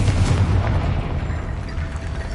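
A loud, dense blast from the Confringo fire spell in the video game Hogwarts Legacy, a continuous booming rumble that fills the whole moment and fades only slightly.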